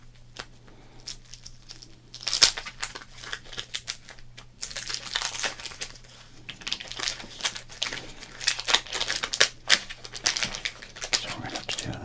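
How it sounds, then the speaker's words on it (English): A tightly wound Topps sports card pack being crinkled and torn open up close, with irregular bursts of crackling foil and sharp ripping that grow denser and louder midway. "We're gonna have to rip and crinkle instead of crinkle and rip."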